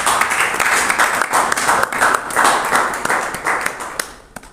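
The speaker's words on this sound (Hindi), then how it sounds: "बहुत बढ़िया, तालियां बजाओ।" An audience at a drug-addiction recovery session claps together, steady rhythmic applause with sharp individual hand strikes, fairly loud throughout and fading out at the end.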